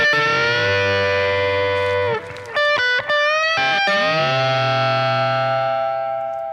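Electric guitar with heavy, gritty distortion plays a bluesy country-style lick, with held string bends and a brief choppy middle section, loud and sustained throughout with no talking.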